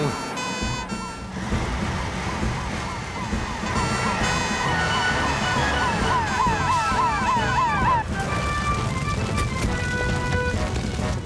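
A loud wailing fire engine siren from the Fireman Sam cartoon, cycling up and down in pitch, mixed with other tones and bright music-like sounds, continuing throughout.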